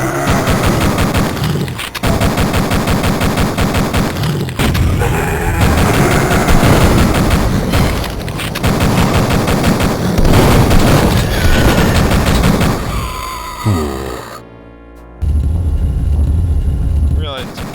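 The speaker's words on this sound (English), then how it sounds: "They can unload with those shotguns." Rapid gunfire and booming blasts from enemy shotguns fill a Duke Nukem 3D firefight, loud and nearly continuous, with short gaps and a sudden cutoff near the end.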